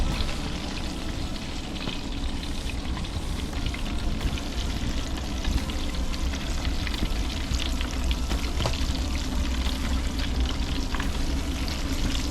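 Louisiana-style catfish fries in hot oil, giving a dense, loud, continuous sizzle and crackle close by with no voices over it.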